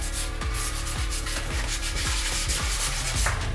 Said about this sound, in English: Sand again.